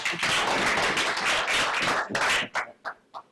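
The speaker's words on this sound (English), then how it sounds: "Yeah, and you clap for that." An audience at a press event claps in a dense burst of applause that fills the first two and a half seconds, then trails off into a few scattered, separate claps.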